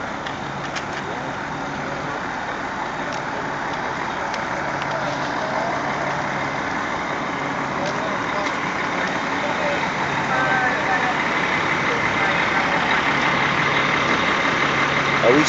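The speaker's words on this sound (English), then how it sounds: "Gasoline truck." A Sunoco gasoline truck's engine idles after crashing into a pole and spilling fuel, a steady low rumble that runs throughout beneath nearby voices.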